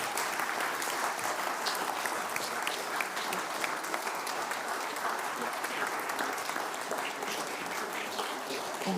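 A lecture audience at the Alan Turing Lecture 2025 applauds in a dense, sustained burst of many hands clapping at once, steady and full throughout.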